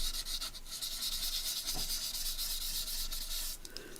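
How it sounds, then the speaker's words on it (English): An anti-static tool is rubbed over a craft surface in a soft, steady scratchy swishing that stays close and fairly quiet for about four seconds, with a few light taps. "I'm going to rub it over with my anti-static anyway"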